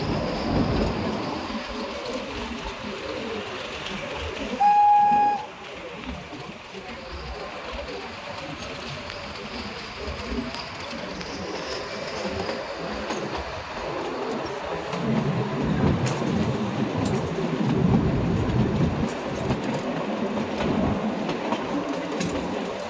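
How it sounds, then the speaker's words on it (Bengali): A train travels between mountains through a series of tunnels on a route toward Manali, a loud, steady rumble and rattle of the carriages with a brief horn-like tone early on, carrying on continuously without talk. "শুধু পাহাড়ের মাঝখান থেকে এই ট্রেনটা যাচ্ছে"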